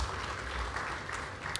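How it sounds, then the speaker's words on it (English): A conference audience at an aviation week gathering applauds the heads of aviation agencies, a brief, even burst of many hands clapping. "One round of applause in a collective for them."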